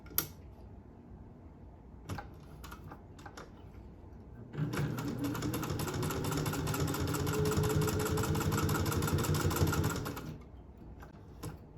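Restored vintage Singer 201-2 sewing machine with a potted motor stitching through eight layers of denim, a steady fast mechanical whir and rattle running about six seconds after a few faint taps, then stopping.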